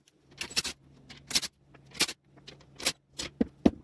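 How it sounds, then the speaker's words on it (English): Bolts being worked loose on a 20-inch box fan as the motor comes off its frame housing, giving a string of sharp metallic clinks and rattles, about seven separate bursts over a low steady hum. "Mongo's gonna unbolt the motor from the frame housing"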